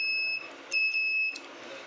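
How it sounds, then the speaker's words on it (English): Two steady high-pitched electronic buzzer tones from a flame detector ring out when a flame is detected, one short and one longer, with a brief gap between them against a quiet room. "when the flame is detected, the buzzer will be ringing."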